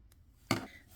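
Scissors snipping crochet yarn: a single short, crisp cut, close and alone against quiet.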